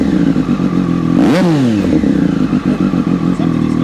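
A Triumph Daytona 765 Moto2 racing motorcycle engine gives one loud, close rev that climbs and falls in pitch over about a second, with a steady rumble before and after and a little clatter.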